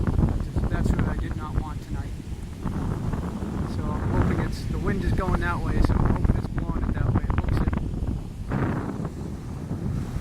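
Wind gusts buffet the microphone at a Hong Kong beach, a loud rumbling roar that persists throughout beneath someone talking.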